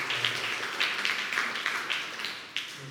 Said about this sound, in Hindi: क्यों ना परमेश्वर के लिए जोरदार ताली बजाते हैं।